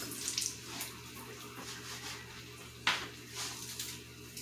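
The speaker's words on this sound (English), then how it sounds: "Wash the scallion again." Running tap water splashes over scallion being washed in a kitchen while cooking a Jamaican-style broad bean stew, with a steady close stream and a few brief splashes and clinks.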